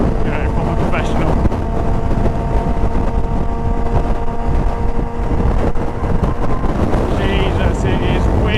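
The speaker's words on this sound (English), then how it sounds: "it is windy" Strong wind buffeting the microphone outdoors, a loud, constant low roar and rumble that persists throughout with a faint voice underneath.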